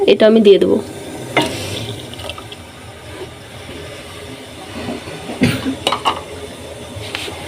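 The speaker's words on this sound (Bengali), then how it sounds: "আমি চাটা এভাবে নাড়বো একটু করে" Milk tea sweetened with jaggery and mixed with powdered milk, stirred in a pot: bursts of clattering and scraping from a spoon, with louder swirls near the start and again toward the end over a low simmering bubble.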